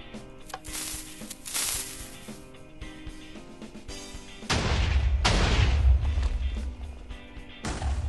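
Minecraft TNT cannon: a few sharp cracks and clattering bangs in the first seconds, then a heavy low booming explosion that rumbles for several seconds before fading, with no talking.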